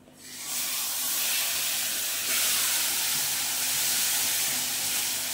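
Lentil paste hits a hot pan with a sudden, loud sizzle that swells into a steady, close, hissing fry, holding for several seconds with no talk.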